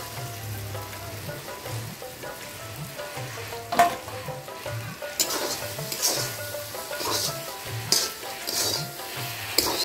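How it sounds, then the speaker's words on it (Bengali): Pointed gourd (potol) that was fried earlier is added back to a pan of Bengali posto and sizzles steadily in hot oil. Sharp crackles and stirring scrapes cut through the sizzle at close range, with no voice. "ভেজে রাখা পটলটা দিয়ে দেব।"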